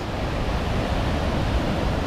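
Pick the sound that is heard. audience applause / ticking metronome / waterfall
waterfall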